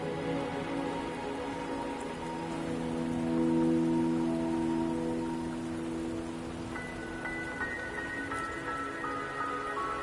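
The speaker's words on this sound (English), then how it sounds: "Are you trapped here by the rain?" Rain falling in the video game Wuthering Waves, a soft continuous patter spread evenly over a game soundtrack of sustained tones, moderately quiet with no speech.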